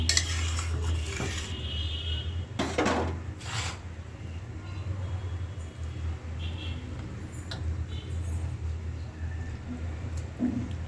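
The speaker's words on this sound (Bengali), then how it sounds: "তো এই যে আমি এখন মাছের ঝোলের মধ্যে মাছগুলো দিয়ে দেবো।" Fish pieces go into a pot of fish curry broth, with a few clanks and scrapes of utensils against the pot over a steady low simmer close by.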